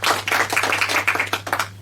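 Audience applause for six contestants on a junior quiz show, a short burst of many hands clapping, fairly close and lively, fading slightly toward the end.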